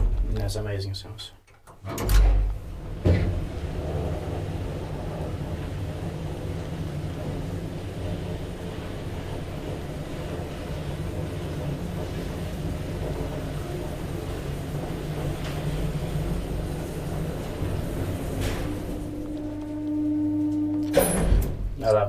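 An old Kone traction lift from 1972 in a Lahti apartment building starts with a thud and clatter of doors, then runs with a constant low mechanical hum, ending with a short chime and more door noise.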